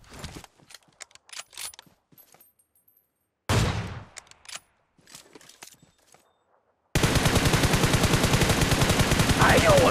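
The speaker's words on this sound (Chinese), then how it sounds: "看到他们了，直接一枪爆头。" Video game gunfire in a battle royale shooter: a few isolated sharp shots, then a sustained rapid burst of automatic fire loud and close at the end, with no talking over it.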